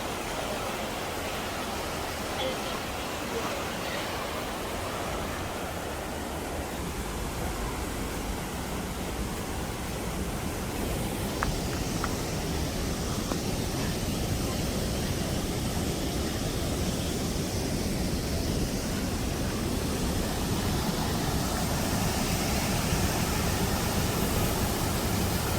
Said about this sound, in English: Okay, another waterfall.